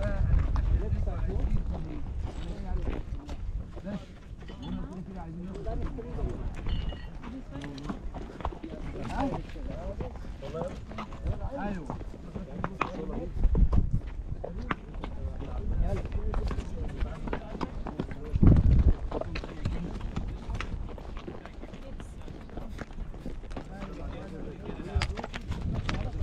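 Horse hooves clip-clop at a steady pace during a ride near the Giza pyramids, heard close up under ongoing conversation, wind buffeting the microphone at times.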